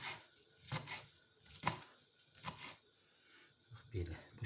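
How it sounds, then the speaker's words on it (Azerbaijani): A knife chops fresh kəvər herb on a board for fish buglama, giving several separate sharp knocks spaced irregularly over a few seconds, quiet and close with low background between them. "Bax bu şəkildə belə doğrayırıq"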